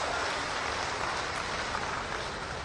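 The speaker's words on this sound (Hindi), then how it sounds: "एक जोरदार ताली बजा दीजिए" Loud applause from an audience at a public event in Gorakhpur, a dense and steady clapping that fills the whole stretch with no pauses.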